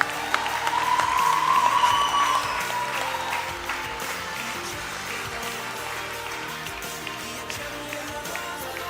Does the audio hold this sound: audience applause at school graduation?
yes